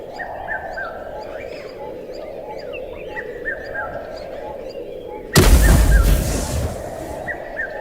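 A sudden eruption bursts through a jungle soundscape of bird calls and chirps, a loud broadband blast midway followed by a decaying roar as birds scatter, with calls continuing faintly around it.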